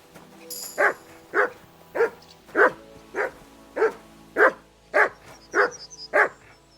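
A dog in Kingdom Come: Deliverance 2 barks in a steady series of about eleven evenly spaced, fairly loud barks, with faint background ambience and no talk.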